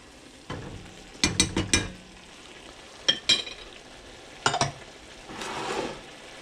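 Asparagus risotto being gently stirred in a pan with a spoon, giving a few separate scraping bursts in short clusters over a soft background sizzle, with a longer wash of sound near the end.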